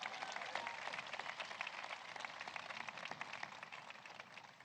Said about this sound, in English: Please, another round of applause for our amazing speaker.